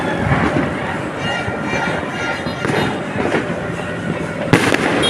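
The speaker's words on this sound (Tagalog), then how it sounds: "may fireworks sa likod" Loud, dense crackling and popping of New Year's fireworks going off continuously, with a sharper bang near the end.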